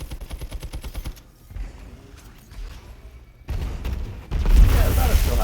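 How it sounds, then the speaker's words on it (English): Grenade explosions burst in a video game shooter: a couple of heavy, rumbling blasts arrive late, rising above earlier rapid gunfire clatter, with a voice talking faintly in places. "Better get up out of here because we just naded ourselves."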